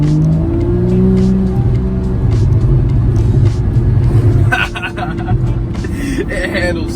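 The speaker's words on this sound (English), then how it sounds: "The pops on this car are so awesome. They sound so good." Porsche GT3 fitted with a Fabspeed Supercup exhaust cruising in second gear, a loud steady engine drone with exhaust rumble from inside the car, a person talking over it throughout.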